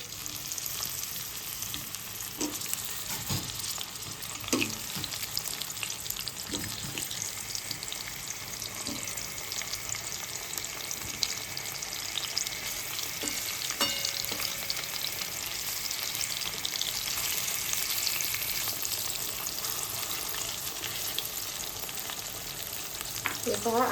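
Tomatoes frying in two to three spoonfuls of oil in a pan for chutney, a steady low sizzle and crackle with occasional soft stirring knocks, no voices.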